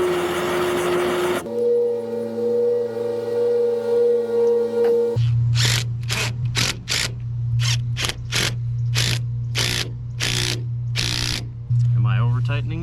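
A ratchet clicks in a quick, steady series of about a dozen sharp ticks while tightening a plumbing fitting on a leaking water line. A low steady hum runs underneath, and a person talks nearby.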